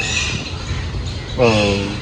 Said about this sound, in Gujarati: આને કહેવાય ઈ બાજ. ઈ બાજ છે.